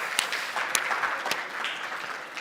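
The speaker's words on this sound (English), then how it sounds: "Give them a big round of applause, ladies and gentlemen." An audience at a blockchain summit applauds, a moderate bed of clapping with a few sharper, closer claps standing out.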